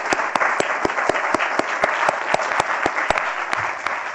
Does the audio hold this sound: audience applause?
yes